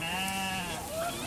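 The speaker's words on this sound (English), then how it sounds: "millions of sheep and goats are on the move in the small self-proclaimed Republic of Somaliland" Sheep and goats bleat in Somaliland livestock trade headed for Saudi Arabia. A long, wavering nasal bleat sounds close and loud, and another overlaps it near the end.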